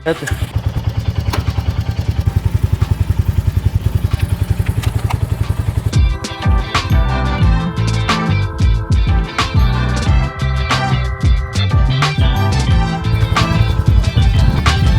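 A Royal Enfield Bullet motorcycle sits idling with its low, even thump, then at about six seconds the engine revs into louder, rougher, clattering bursts, close by and alone, with no talk.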